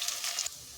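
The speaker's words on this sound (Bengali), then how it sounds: "তবে আমি একটু বেশি তেলেই ভাজছি।" Lentil paste wrapped in pumpkin leaves frying as fritters in a generous amount of hot oil gives a short, steady hissing sizzle that drops away abruptly partway through.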